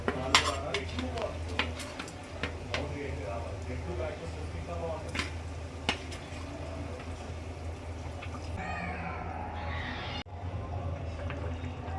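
Fried fish pieces are tipped into a pot for a village-style fish curry and stirred, giving repeated clinks and scrapes of a utensil against the pot over a low steady background, with talk running throughout.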